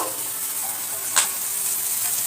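Onion and broken green chili sizzle steadily in a kadhai, a dense continuous frying hiss with one brief louder crackle midway, close and alone.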